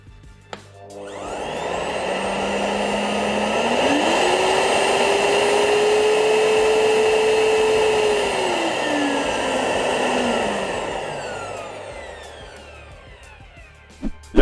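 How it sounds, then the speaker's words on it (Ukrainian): A Procraft VP2000 construction vacuum cleaner switches on with a click, and its motor whine climbs in pitch, holds loud and steady, then drops as the suction power is adjusted down, ending with another click. "нажимаємо клавішу, він загудів і далі регулюємо потужність смоктування"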